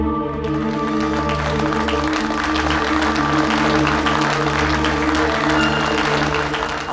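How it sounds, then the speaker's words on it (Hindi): A royal court audience claps steadily, a dense and continuous patter of applause that holds for several seconds over a sustained musical backing. "सभी तालियां बजाने में व्यस्त हैं।"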